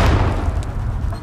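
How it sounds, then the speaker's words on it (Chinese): Artillery fire in a war drama, a deep, heavy rumble of bombardment that holds steady and loud for the whole moment, with no separate blasts standing out. "敌人的炮火很猛烈"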